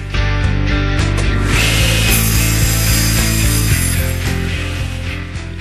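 A saw makes a final pass along a quarter-inch groove in wood, shaping parts for wooden pecking chicken toys, a loud close steady whine with a gritty cutting rasp.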